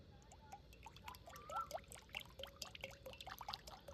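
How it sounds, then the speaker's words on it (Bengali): White cooking oil poured into a hot wok gives a faint, quiet trickle with scattered small crackles and drips, heard alone at low volume. "গরম কড়ার মধ্যে সাদা তেল দিয়ে দেব"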